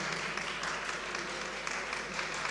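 Audience applause at an Urdu international seminar held at Shia P.G. College, a steady, moderately distant wash of clapping that carries on evenly throughout with no voices over it.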